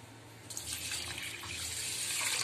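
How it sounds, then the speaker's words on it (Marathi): Water pours steadily from a tap onto washed rice in a vessel to soak it, a close, continuous splashing gush that grows slightly fuller as the container fills. "आता मी हे पाणी टाकून ठेवणार आहे।"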